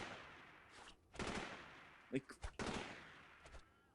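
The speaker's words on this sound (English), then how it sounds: "I don't know if I'm being shot at from the front or from behind." Gunfire in the video game Delta Force 2, sharp bursts of shots in a few clusters over a couple of seconds, with a brief spoken word in between.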